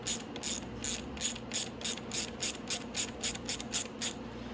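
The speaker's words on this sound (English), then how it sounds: "usually I would rather turn the nut with the ratchet rather than the bolt" A ratchet wrench turns a nut on the rear brake assembly of a Venom E-Madix 1300W electric ATV. It gives a rapid series of rhythmic clicking strokes, about a dozen, close and crisp, with no talking.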